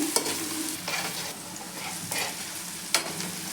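Onions frying in a pan for baingan bharta, a steady close sizzle with a few sharp scraping stirs of a spatula spaced through it, no voices.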